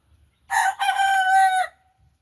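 A single loud young rooster crow, close by, rising and holding briefly before cutting off.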